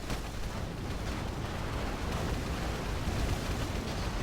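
Explosions from a Rise of the Reds battle as a tier 1 weapons bunker is destroyed: a dense, loud, continuous rumble of blasts with no break across the whole stretch.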